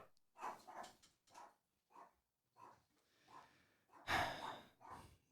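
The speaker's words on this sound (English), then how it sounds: "I apologize for the dogs." A dog pants and snorts in quick bursts, close by, with short breathy huffs and a louder snuffling burst near the end.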